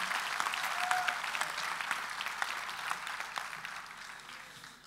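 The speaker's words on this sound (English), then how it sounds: "They deserve really a big applause." An audience at the closing session of the 2018 IFLA World Library and Information Congress breaks into warm, dense applause, the clapping building briefly and then slowly tapering off toward the end.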